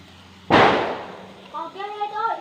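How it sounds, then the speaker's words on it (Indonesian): A firecracker goes off with one sharp, loud bang in front of a house, its noise trailing away before someone starts talking. "Kembang api guys,"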